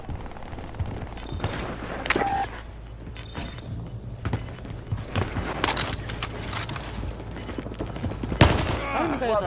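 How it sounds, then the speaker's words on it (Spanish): Rapid gunfire bursts and mechanical clanks from a Call of Duty: Modern Warfare multiplayer match, loud and dense throughout, with occasional booms and players talking over the shooting. "¡Controla tus disparos!"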